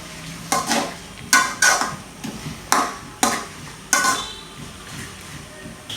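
A spoon scrapes and clanks against a pot of beef curry with onions, about eight sharp stirring strokes in an uneven rhythm, close and fairly quiet.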